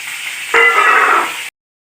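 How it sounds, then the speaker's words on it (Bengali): Fish hit hot oil in a pan, and a sudden loud sizzle bursts in after a quiet start, holds steady hiss, then cuts off abruptly. "4টে মাছই ভাজা হয়ে গেল"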